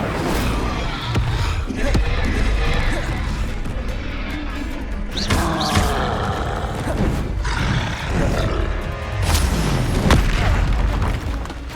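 Incendio fire spells cast in Hogwarts Legacy amid a chain of combat spells: repeated roaring, crackling fiery bursts and heavy booms in rapid succession, loud and continuous, with grunts and shouts mixed in.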